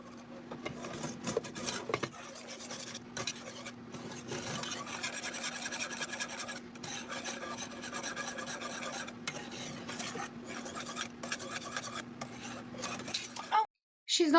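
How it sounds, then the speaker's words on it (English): A spoon scrapes and rasps against the bottom of a pan, a steady close-up scratching that runs for about fourteen seconds over a low hum, then cuts out before a brief sound at the end. "She's literally just scratching the bottom of the pan."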